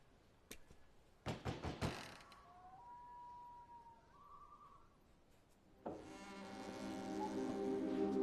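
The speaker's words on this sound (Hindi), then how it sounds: "नॉक करो।" Knocking on the wooden door of a 16th-century villa, a few sharp raps in two quick bursts near the start, then a faint tone and a rising hum of background noise.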